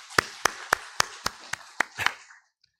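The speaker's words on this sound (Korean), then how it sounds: "우리 하나님 앞에 영광의 박수 올려드리겠습니다." A congregation at a Sunday church service claps in eight sharp, evenly spaced beats that end in a brief flurry before falling silent, close and clear with no voices.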